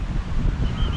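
Steady, cool wind at Malpe Beach near Udupi at sunset, a constant low rushing buffet across the microphone with no voices.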